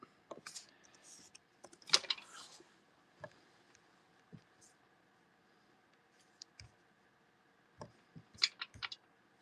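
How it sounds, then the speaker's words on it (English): Computer keyboard keys are typed in short irregular bursts of clicks in a quiet room, with soft keystrokes and pauses between flurries and a faint background hum. "I've tried typing it every which way but loose."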